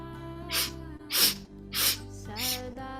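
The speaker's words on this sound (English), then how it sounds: "let's now introduce a sniff" Four rhythmic nasal sniffs of Kundalini yoga breathing, evenly spaced sharp inhales close to the mic over a soft sustained musical drone.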